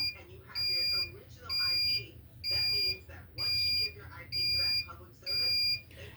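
A timer on a DTF heat-press setup for printing T-shirts beeps in six steady, evenly spaced electronic tones, loud and shrill, with a low hum running underneath.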